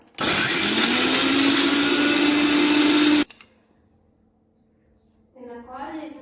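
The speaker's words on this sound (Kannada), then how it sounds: "ಓಕೆ, ಮಿಕ್ಸಿ ಮಾಡ್ಕೊಳ್ಳೋಣ. ಜಸ್ಟ್ ಅದು ಪುಡಿ ಪುಡಿ ಆದರೆ ಸಾಕು." A mixer grinder roars loudly for about three seconds while grinding biscuits, then cuts off abruptly, followed by quiet and a brief voice at the end.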